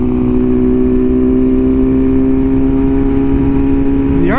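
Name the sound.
BMW S1000RR motorcycle downshifting with quick shifter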